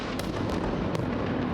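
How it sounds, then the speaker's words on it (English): Explosions from Israeli airstrikes on Gaza during the Israel-Hamas fighting, heard as a steady, dense rumble with a couple of sharper bursts, loud and continuous with no speech. "Israeli airstrikes hit Gaza early on Tuesday morning"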